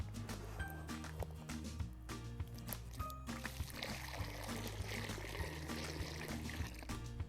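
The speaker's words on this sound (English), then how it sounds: "So we fill the hole about halfway with water." Water pouring in a steady stream into a planting hole, with a low hum beneath and occasional small knocks, close and moderately quiet.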